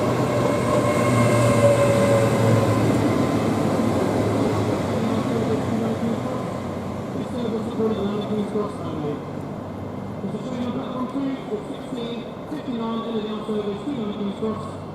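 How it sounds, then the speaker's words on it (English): A Class 700 train arrives at Stevenage station, its rumble loud and steady, easing slightly. Later, faint announcement chimes and people talking come in over the rolling wheels. "And also arriving is 700 114, which is heading to Cambridge"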